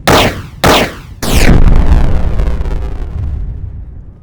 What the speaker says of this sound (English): Three slams go off in perfect sequence.